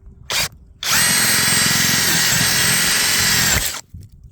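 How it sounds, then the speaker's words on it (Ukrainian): A power drill whines steadily as it bores into wet wood for about three seconds, preceded by a brief short burst, loud and close. "Не знаю, що за дерево, воно свердлиться дуже паршиво."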